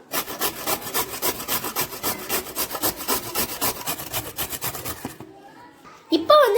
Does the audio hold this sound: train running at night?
no